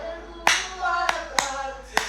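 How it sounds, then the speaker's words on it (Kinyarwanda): Audience clapping at a live music performance by a singer: four sharp, isolated claps at a roughly steady beat, close by, over faint tonal music and no speech. "Tuba abanyarwanda n'amashyi kugira gutya gusa."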